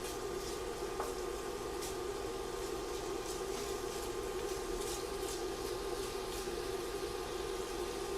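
Smoked bacon frying in a pan, a steady close sizzle and crackle with faint pops, continuous and even throughout with no talking.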